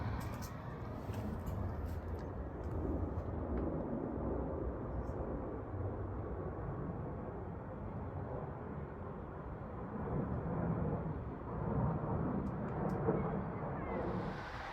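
A broad, steady low rumble of an aircraft passing overhead, sustained and fairly faint, without speech.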